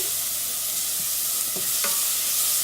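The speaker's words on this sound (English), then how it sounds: "So the garlic is in. And just stir it." Garlic fries in a pot of hot oil with a soft, continuous sizzle, while a spoon scrapes and stirs it in a few brief strokes close by.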